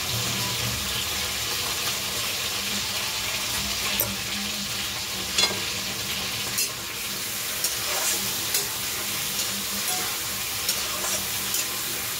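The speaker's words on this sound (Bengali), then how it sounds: "এবার মাংসটা দিয়ে দেবো, মাংসটা দিয়ে একটু ভেজে নেব" Chicken pieces and potato frying in a pan, a dense, continuous hiss of sizzling oil held close and level, with occasional light clicks and scrapes of stirring.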